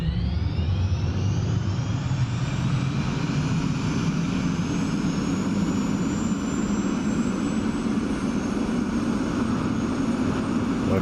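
A simulated F-16 fighter jet's fuel starter spins up in a flight simulator game, a loud steady whine with rising high-pitched tones over a broad, constant rushing roar.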